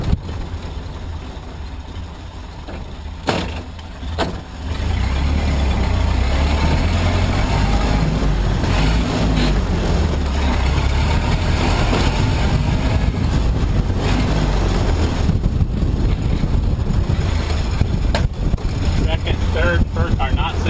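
A 1928 Ford Model A engine runs steadily while the car drives, a loud low rumble that holds throughout after a brief dip near the start, with speech over it.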